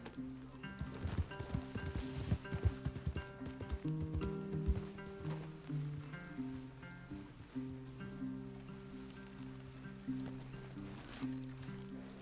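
Horse hooves clip-clop softly amid rustling in the video game Red Dead Redemption 2, with a low sustained musical tone underneath; no speech.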